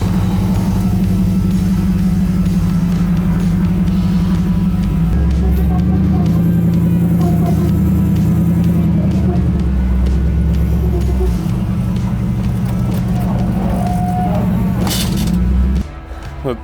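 A custom Land Cruiser rock crawler pulls away at a museum, its engine droning steadily close by with a low rumble that deepens briefly mid-way as it moves off, while someone talks over it.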